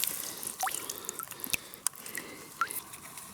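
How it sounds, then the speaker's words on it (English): A freshly dug wild tuber is rinsed in outdoor water, giving small splashes and drips with a few sharper clinks against a steady faint background wash. "let me take this to the water and clean it off"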